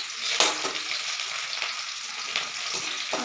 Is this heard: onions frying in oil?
yes